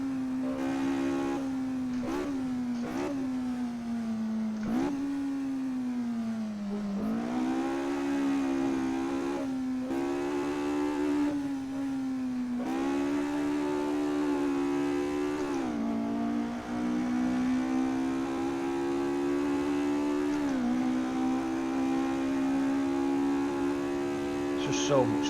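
Ford Escort MK2 engine held flat out in fifth gear in Assetto Corsa, a sustained droning whine near the rev limit with brief dips and recoveries over bumps, steady and loud, with no voices.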